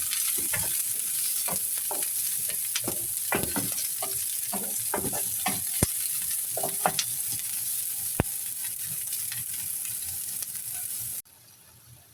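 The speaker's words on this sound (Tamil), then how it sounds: "அதுக்கப்புறம் சின்னதாக கட் பண்ணி வச்சுருக்க வெங்காயத்தை சேர்த்துக்கணும் அப்புறமா வெட்டி வச்சுருக்கிற குடமிளகாய் இது எல்லாத்தையும் சேர்த்து நல்லா வதக்கி விடுங்க" Chopped onion and capsicum sautéing in a pan, a continuous sizzle punctuated by frequent clattering stirs and scrapes of a utensil, close and busy for most of the stretch before cutting to near silence at the end.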